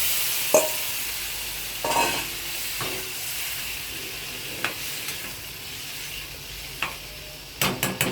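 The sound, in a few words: chickpeas added to hot pan for chole, sizzling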